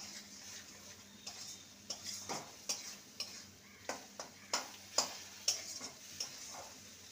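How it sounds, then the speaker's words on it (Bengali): Egg cooked down with spices in a pan, stirred and scraped with a utensil: a steady series of distinct scraping taps and knocks over a low sizzle, fairly close, with no talking. "ভালো মতন ডিম মশলাকে কষিয়ে নিতে হবে"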